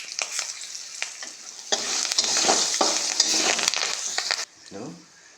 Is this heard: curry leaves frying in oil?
yes